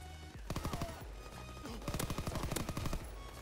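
Shotgun fire in a video game sounds in repeated loud bursts, several quick blasts in clusters with short gaps, close and punchy with no speech over them.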